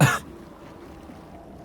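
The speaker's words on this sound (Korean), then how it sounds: "급기야 밤이 깊어져서는 이까지 딱딱 부딪히며 연신 기침을 해댔다." A woman coughs once in a short, sharp burst, followed by quiet background, as a sound effect in an audiobook of a Korean martial arts novel.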